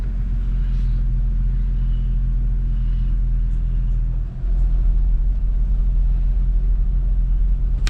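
A truck pulling a vehicle out of deep mud up north gives a steady, heavy low engine rumble that holds throughout at close range, with no talk.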